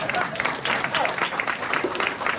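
Audience at a Corsican stage show clapping, a dense, fairly loud burst of applause sustained for a couple of seconds with some voices mixed in.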